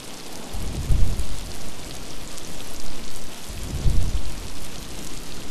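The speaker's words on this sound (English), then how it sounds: "Of course, it is raining," Steady rain falls in a game setting, a dense, loud hiss broken by two deep rumbles like distant thunder, with no voices.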